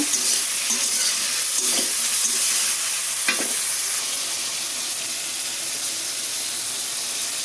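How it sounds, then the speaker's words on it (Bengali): Potato and sweet potato pieces fry in oil with a continuous bright sizzle and hiss, with a couple of soft stirring scrapes near the start, close and steady throughout. "একে একে সব কিছু তেলে ভেজে নেব"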